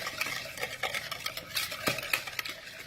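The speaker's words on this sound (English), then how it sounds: "All right, let's mix this together." Mighty Mo sauce ingredients being stirred and mixed in a bowl, a close, continuous rhythmic scraping and clinking of a utensil against the container, moderately loud, with no talking.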